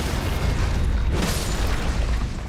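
Fire attacks exploding in Elden Ring at Volcano Manor, a dense roaring burst of booms with one brighter crackling blast in the middle, loud and close throughout.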